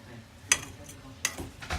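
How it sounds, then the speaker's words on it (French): A garlic spaghetti mixture with sausage is stirred energetically in a pan, with a few sharp clicks and scrapes of the utensil against the pan and a soft background sizzle. "Très belle énergie que Nick a à mélanger ce repas."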